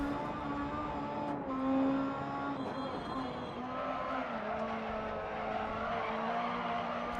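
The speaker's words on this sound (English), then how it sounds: "You can hear the tyres just absolutely desperately trying to find some grip through there as I'm asking them to turn and accelerate at the same time" Super 1600 rallycross car in DiRT Rally, its tyres scrabbling and squealing for grip under understeer while the engine drones steadily, with a voice talking over it throughout.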